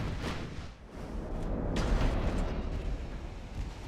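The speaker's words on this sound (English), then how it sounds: "Oh, another solid hit on enemy battleship." Shell impacts and rumbling explosions hit a battleship in the naval combat game Ultimate Admiral: Dreadnoughts, a dense, continuous roar of booms with a heavier swell of blasts midway, no speech.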